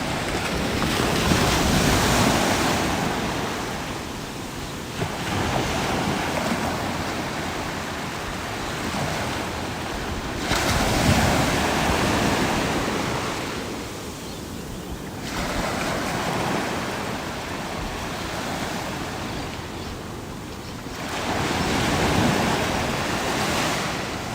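Wild seas breaking on a rocky coastline with wind, heavy surf rolling in as loud, continuous washes that swell and recede roughly every five seconds, with wind buffeting throughout and no voices.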